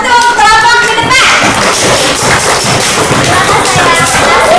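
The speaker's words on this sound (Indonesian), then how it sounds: "Beri tepuk tangan untuk kelompok di depan" A classroom of students claps for a group presenting at the front. Loud, dense, uneven clapping starts after a brief burst of children's voices and continues steadily to the end.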